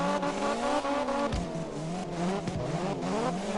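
A drifting race car in the CarX Drift Racing video game screeches its tires, with wavering squeals over a revving engine and a couple of sharp skid bursts.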